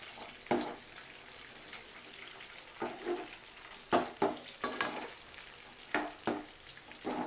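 Large prawns fry in a pan for a restaurant-style dish, with a constant loud sizzle and repeated bursts as they are stirred and tossed.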